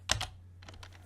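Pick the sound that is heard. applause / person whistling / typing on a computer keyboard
typing on a computer keyboard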